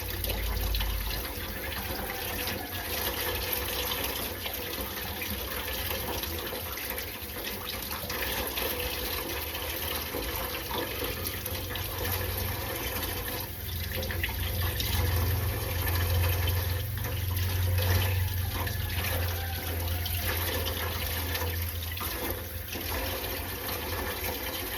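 Tap water runs steadily into a sink while raw chicken is washed in a home kitchen, a continuous close splashing stream throughout.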